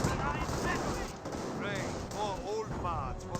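Rattling gunfire and distant battle explosions from a Company of Heroes 1 match between Wehrmacht and British forces run continuously beneath a commentator's voice.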